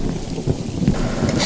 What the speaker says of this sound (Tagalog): malakas ang ulan sa labas